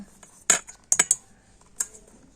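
A spoon clinks against a bowl while semolina is stirred into a sour yogurt and sugar mixture, a few sharp, close metallic taps spaced irregularly over a quiet background.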